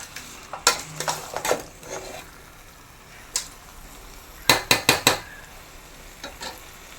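Mango peel perattu simmers in a pan on a low flame while a spoon stirs it, giving scattered scrapes and a quick run of four sharp clinks against the pan, fairly close and clear.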